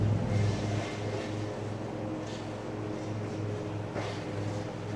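A Kohler Command Pro small engine, just reassembled after a governor repair, runs with a steady low droning hum, continuous and fairly loud throughout with slight wind-like noise over it.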